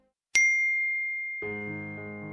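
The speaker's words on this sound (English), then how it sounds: "I heard my phone ring." A phone message notification sounds with a bright single ding that rings out and decays, followed by a softer, lower chime tone sustaining beneath it.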